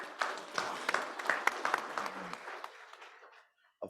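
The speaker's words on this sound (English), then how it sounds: "Please let's give her a round of applause." Applause from a conference audience at an action research plenary rings out fairly close and full, then thins and fades to silence near the end.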